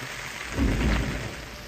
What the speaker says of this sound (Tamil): இடி மின்னலுடன் கொட்டி தீர்த்த மழை